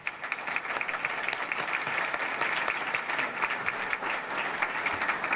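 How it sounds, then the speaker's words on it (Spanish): Dense, steady audience applause fills a hall at an international book fair of Dominican women writers, a loud continuous wash of many hands clapping with no voices standing out. "yo quiero un aplauso para esas titanas"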